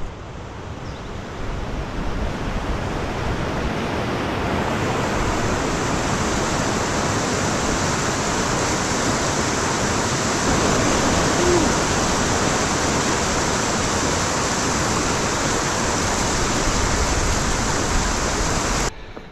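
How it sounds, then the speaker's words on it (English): A river flowing right nearby, a loud continuous broadband rush of moving water holding steady throughout, with no voices. "the river where I was soaking this alpaca insulation layer is right behind me"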